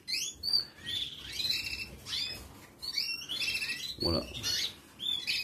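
Pet goldfinches or canaries, two small males, chirp and tweet in repeated bright bursts throughout, close and fairly loud, with someone speaking briefly in French over them.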